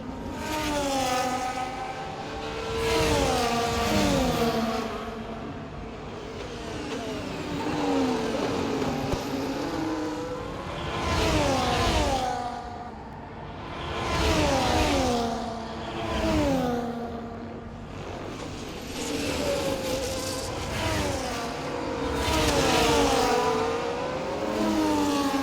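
Formula 1 cars race through the Singapore Grand Prix street circuit at Marina Bay in the EA Sports F1 game, and high engines scream up and down through the gears in repeated rising and falling sweeps, loud and continuous.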